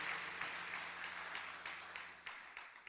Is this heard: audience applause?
yes